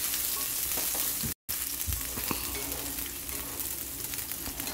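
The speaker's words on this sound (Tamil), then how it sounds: "அதையும் இதில் சேர்த்துக்கலாம். சேர்த்துட்டு நம்ம வதக்கிடலாம்." Small chopped garlic cloves sauté in a pan with a soft, continuous frying sizzle and occasional stirring scrapes, fairly quiet and close, with a brief dropout partway through and no voices.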